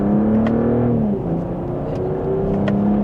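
A 2026 BMW M440i Coupe with a valved exhaust hums at a steady low idle with a deep exhaust tone, dipping slightly in pitch partway through, no voices.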